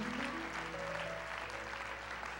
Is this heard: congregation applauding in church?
yes